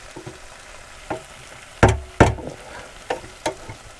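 Chicken pieces browning in a pan for a creamy pasta, cooked inside a VW T4 camper van: a low steady sizzle broken by several sharp clatters and scrapes of a utensil moving the meat, no voices.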